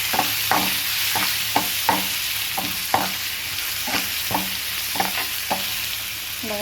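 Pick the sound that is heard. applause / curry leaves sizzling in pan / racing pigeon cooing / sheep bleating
curry leaves sizzling in pan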